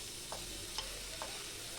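Chopped onions and cumin seeds frying in a pan, giving a soft continuous sizzle with a few brief scraping stirs of a spoon, quiet and close.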